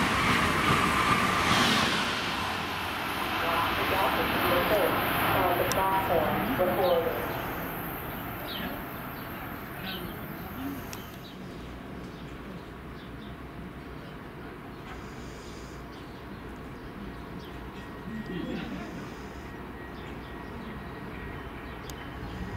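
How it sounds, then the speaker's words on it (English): Trains at Princeton Junction station, New Jersey, with a loud rumbling pass early on that fades into quieter platform ambience, birds chirping, and a later faint swell of rail noise. "the next train to stop on track 4 will be the 2:46 p.m. westbound train to Trenton"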